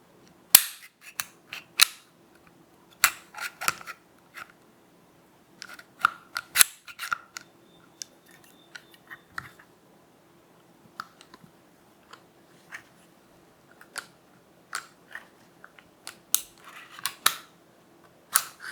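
Metallic clicks and clacks from a handgun being disassembled for cleaning, slide pulled back and locked, with crisp, close, isolated snaps spread irregularly across a quiet background, no speech.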